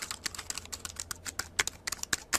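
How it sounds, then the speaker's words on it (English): Fingers type fast on the soft keys of a tiny mini laptop, giving a close, dense run of light clicks and taps in an uneven rhythm with no voices. "That is some soft keys."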